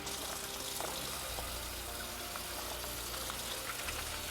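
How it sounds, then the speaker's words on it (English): Hands being washed under a running tap after removing gloves, a steady close stream of water splashing into a sink with shifting flow, no talking. "and then we want to wash our hands."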